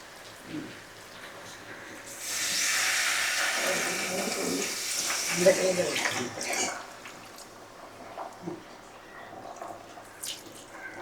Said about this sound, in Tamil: இப்போ தேவையான தண்ணி விட்டுருங்க